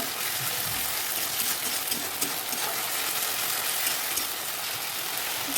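Ginger, onion and garlic paste fries in hot oil as it is stirred for a fish curry, a steady loud sizzle and crackle with faint scraping, continuous without voices.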